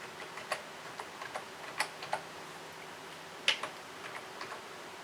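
Light, scattered keystrokes on a computer keyboard as a terminal command is typed on a Raspberry Pi, soft irregular clicks with short pauses, close and quiet.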